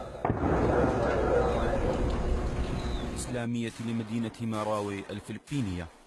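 Sharp gunfire bursts crackle in a noisy city street during fighting with Maute rebels, then an amplified voice on a loudspeaker talks loudly over sporadic shots, urging surrender.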